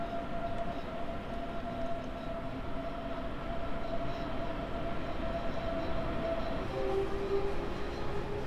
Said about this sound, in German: Machen die Türen zu. und fahren dann jetzt gleich mal aus.